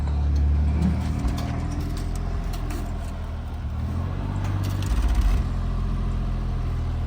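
Nissan 300ZX twin turbo idling steadily while being reversed slowly onto a trailer ramp, a low continuous engine rumble close by with small swells in level and no talk.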